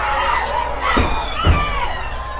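Crusader fans at a Tampa Catholic high school regional final football game cheer and shout loudly as a dense crowd, with a few thumps and rising yells over the roar.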